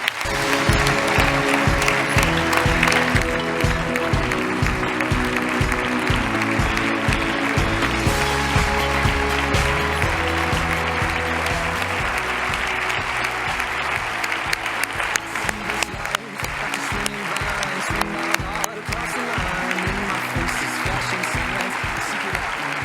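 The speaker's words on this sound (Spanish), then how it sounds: "yo pido un aplauso para el presidente autonómico del partido, Luis María Beamonte." A party congress audience in Aragón gives its regional president long, loud, sustained applause, a dense crowd of clapping hands that continues for more than twenty seconds.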